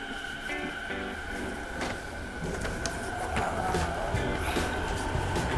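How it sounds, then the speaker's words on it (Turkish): A train in Japan rumbles and squeals steadily nearby at a station, with a constant mechanical hum and faint clanks, growing slightly louder toward the end. "Trenim geliyor."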